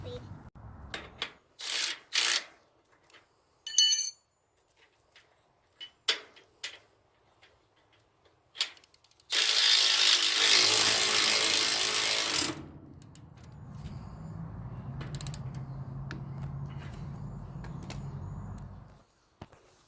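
A ratchet tightens bolts on a Proven Industries lock fitted to a Maxxd dump trailer. Short bursts of quick clicking are followed by a louder rushing burst, then a low, steady hum. Faint talk may sit underneath.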